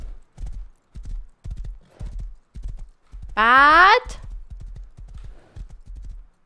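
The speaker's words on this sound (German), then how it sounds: "ich will nicht mal auf diesem Pferd reiten, das ist so nervig" Horse hooves clip-clop in a steady, regular rhythm while riding in the survival game Rust, close and clear, with a loud whinny breaking in midway; a person talks briefly over it.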